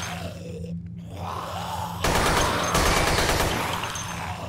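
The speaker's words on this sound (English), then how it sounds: "See, shooting zombies is always fun." Gunfire from a video game shooter, Dead Effect 2 on PS4, as zombies are gunned down: a dense rapid burst of shots kicks in halfway and keeps rattling loudly over game noise and growls.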